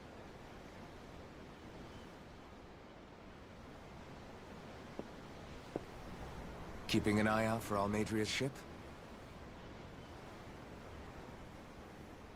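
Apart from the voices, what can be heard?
ocean waves in the video game Tales of Arise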